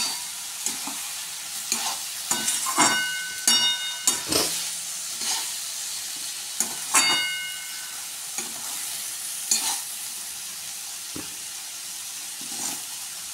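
Potatoes with poppy seed paste being stirred in a cooking pan, soft steady sizzle under repeated scraping and clinking strokes of a spatula, busy at first and then sparser.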